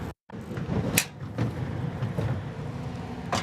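A large storage drawer in the basement bay of a 2023 Newmar Mountain Aire 4118 motorhome slides open with a rolling rumble, marked by a couple of sharp clacks as it moves, fairly close and loud.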